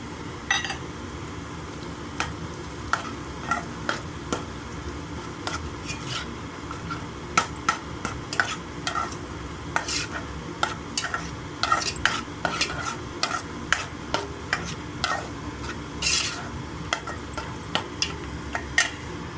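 Eggs for fried rice sizzle and fry in a pan while a utensil stirs and scrapes steadily, with repeated clinks and taps against the metal throughout, no talking.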